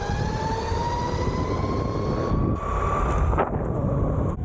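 JKING Jupiter 01 electric board accelerating in speed mode 4 on a full battery, a steady rising motor whine over heavy wind rumble that climbs in pitch throughout.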